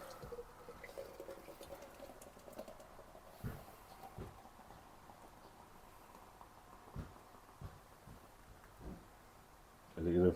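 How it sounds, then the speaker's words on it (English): Carling Premier Nitro beer from a 440 ml widget can is poured into a glass, a faint, soft fizzing trickle that runs steadily, with a louder clunk right at the end. "let's get just the bog standard can, Carling Premier Nitro poured."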